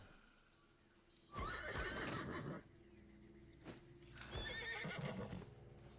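A horse in the Albion Online video game whinnies twice, two drawn-out neighs separated by a short pause, with faint hoof clip-clop beneath; no talking.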